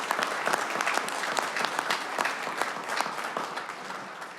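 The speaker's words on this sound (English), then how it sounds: "That deserves a clap." Applause from an audience at a city council meeting, a dense, steady clapping from many hands filling the room for the whole stretch, at moderate distance and holding level without fading.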